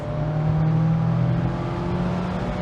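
2024 Mazda MX-5 Miata ND3 engine pulling through the gear: a steady, loud, tonal engine note that rises slightly as the revs climb, heard from inside the car without speech.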